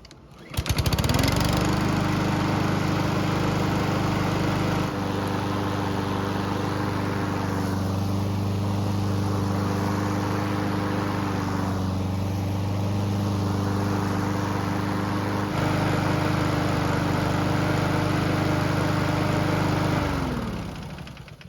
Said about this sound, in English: we'll then start the mower and make sure we didn't mess something up